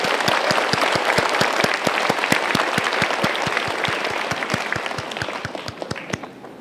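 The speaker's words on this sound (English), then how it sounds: "Let's applause again." Audience applause at a presentation event, a crisp crowd of hands clapping with a clear steady rhythm, sustained for several seconds before gradually thinning and fading.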